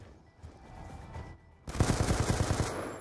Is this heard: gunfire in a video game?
yes